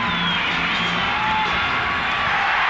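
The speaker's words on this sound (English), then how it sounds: "And this crowd is certainly in it as Crawford gets set to throw it up." Arena crowd roaring before the opening tip-off of an NBA Eastern Conference Finals game between the Bulls and Pistons at The Palace of Auburn Hills, a dense continuous cheer with no pauses.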